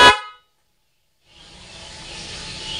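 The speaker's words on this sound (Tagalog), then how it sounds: "kailangan kapag sinwitch ko to, tutunog na yung busina natin." A Nhay 3 Pro music car horn set to mode 1 sounds one short, loud, bright blast at the start. A pause of near silence follows, then a soft hiss that slowly builds.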